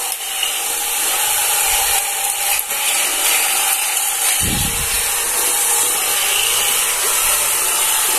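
An electric floor sweeper with small wheels and bristle brushes runs indoors sweeping up dust, a steady close whirring hiss that deepens briefly partway through.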